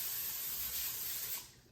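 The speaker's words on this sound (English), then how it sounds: "I'm gonna spray it with non-stick cooking spray." Non-stick cooking spray hisses from an aerosol can into a foil-lined casserole dish in one steady, close burst that cuts off near the end.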